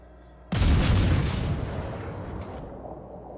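Warship guns fire in World of Warships Legends aboard HMS Plymouth: one loud, booming salvo bursts in and rolls off into a long, fading rumble, with a fainter second report near the end and no talk.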